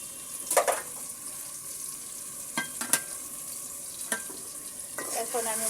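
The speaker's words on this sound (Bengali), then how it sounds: "এখন আমি মশলাটা নেড়ে দেব।" Spices stirred in a frying pan for a fish-head muri ghonto, with a few separate scraping strokes of the spoon over a steady soft sizzle.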